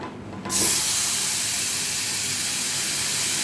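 Mango pieces drop into hot mustard oil with turmeric, setting off an abrupt, loud hissing sizzle after a quiet moment that holds steady and close throughout.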